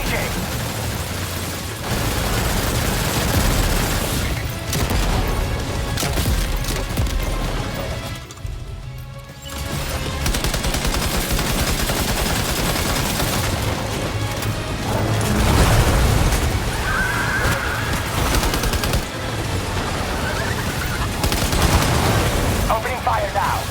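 Gunfire in Death Stranding 2 during a battle with the Magellan under attack: dense, continuous bursts and booms filling most of the stretch, with a short lull near the middle, over game music and voices.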